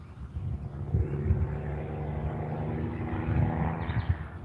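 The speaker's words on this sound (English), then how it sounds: "Do you hear the lovely semis in the background?" Semi trucks passing on a nearby road beside a fishing pond, a low, steady engine and tire rumble that swells and fades at a moderate distance, with no talk over it.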